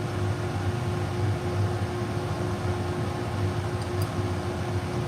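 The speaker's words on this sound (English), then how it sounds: "That sound is my dust collection system." A workshop dust collection system runs steadily, a loud continuous whoosh of air and motor hum with a low tonal drone, unchanging and with no talk over it.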